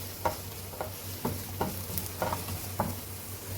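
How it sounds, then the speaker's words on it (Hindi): Onions sautéing in butter in a pan while a spoon stirs them, giving six soft scraping strokes at a steady rhythm over a faint, constant sizzle. "इस तरह से आपने चम्मच हिलाना है प्याज में"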